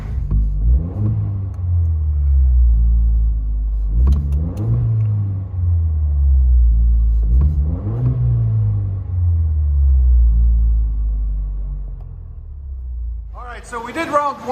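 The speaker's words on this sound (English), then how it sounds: "There's a muffler delete there. That sounds so good. Let you guys hear on the inside." A 2.7L turbo Chevy Silverado with its muffler deleted, heard from inside the cab, revs in three deep, rumbling surges that rise and fall, followed by a brief voice at the end.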